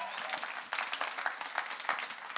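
Audience applause at the Rock and Roll Hall of Fame induction show, fairly distant crowd clapping swelling slightly and continuing steadily throughout.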